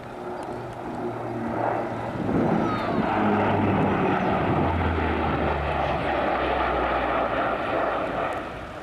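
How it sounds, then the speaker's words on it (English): A JATO jet-assisted aircraft takeoff at an air show, a loud steady engine roar that swells and holds for several seconds with a shifting drone underneath. "That, my friends, is what they call a JATO takeoff."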